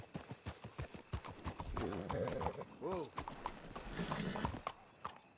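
Horse hooves clip-clop in the Red Dead video game, a steady run of distinct hoofbeats slowing to a few scattered steps, with a horse's whinny in the middle and people talking over it.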